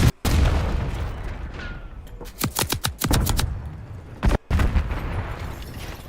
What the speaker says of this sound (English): Throwing incendiary.